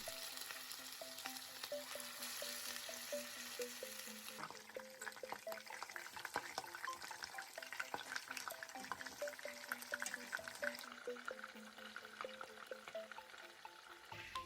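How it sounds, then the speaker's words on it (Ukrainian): Buckwheat patties sizzling and crackling steadily in hot oil, a continuous close frying hiss with occasional pops and a faint tonal hum in the background. "смажимо котлетки з двох сторін до золотистості"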